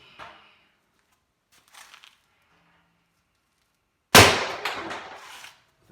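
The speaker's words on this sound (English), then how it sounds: "All right. first shot." A Pepperball patrol carbine fires one sharp, loud shot outdoors over air tanks, a hard broadband crack that decays over about a second after faint preceding handling noises.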